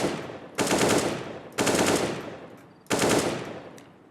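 Three bursts of automatic gunfire fired through a wall in Counter-Strike: Global Offensive on the Inferno map, each a loud, dense rattle of rapid shots starting abruptly and tapering off, about a second apart, with no talking.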